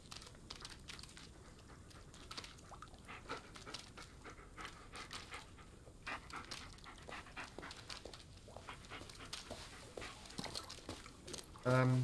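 A dog pants steadily in the video game Blair Witch, a rapid rhythmic breathing that runs throughout at moderate volume, ending with a brief whimper.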